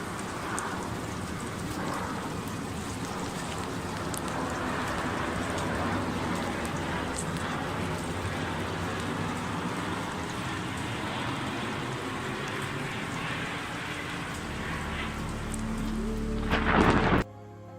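Steady heavy rain pours through a thunderstorm with low rumbling thunder after a lightning strike on a plane, holding dense and loud throughout before a brief louder burst near the end.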